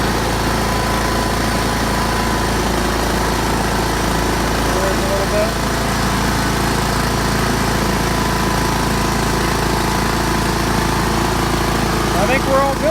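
John Deere 314 garden tractor engine running steadily nearby, a continuous droning hum with a constant low rumble throughout while someone speaks over it.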